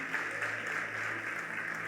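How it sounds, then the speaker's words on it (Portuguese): A church congregation applauds with a brief, dense wash of steady clapping that fills the room evenly, with no speech over it. "Eu queria que você aplaudisse o Senhor por essa pessoa que está do seu lado."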